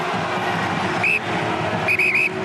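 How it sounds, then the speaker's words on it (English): A referee's whistle at a Top 14 rugby match between Stade Francais and Perpignan in Paris, one short blast followed by three quick shrill blasts signalling half-time, sharp and clear over steady crowd noise. "Cyril Laflamme blows the half-time whistle in Paris at half-time"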